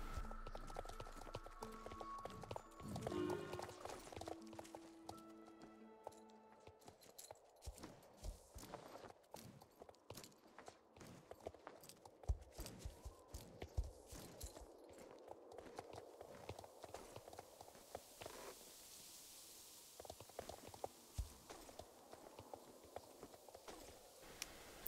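Horse hooves in the online game Star Stable Online beat in a steady, rapid galloping clip-clop that runs throughout at moderate loudness over faint game ambience, without talk.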